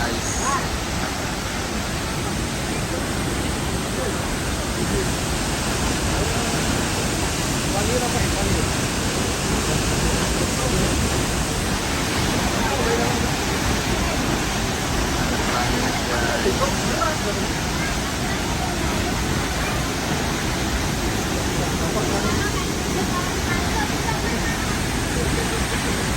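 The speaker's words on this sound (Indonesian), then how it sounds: "Inilah air terjun Telun berasap." Steady, dense roar of the Telun Berasap waterfall in Kerinci, a continuous broadband rush of falling water filling the whole clip at constant loudness with no pauses.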